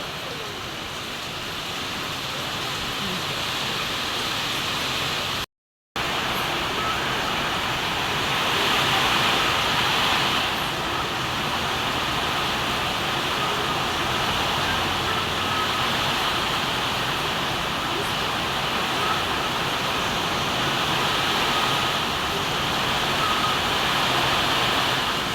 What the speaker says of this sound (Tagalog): lalo pa po lumakas ang ulan